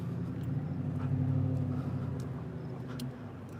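A loud truck turning at a traffic light at night, its low engine drone swelling and then easing off, heard from a short distance inside another vehicle.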